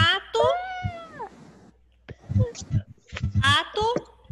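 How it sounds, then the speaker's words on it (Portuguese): A cat's drawn-out, rising and falling meow comes first, with another whiny meow later, mixed among children's and adults' voices in a lively online classroom lesson about animals. "Gato."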